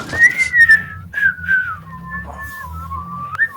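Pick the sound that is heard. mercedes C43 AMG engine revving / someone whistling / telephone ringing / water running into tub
someone whistling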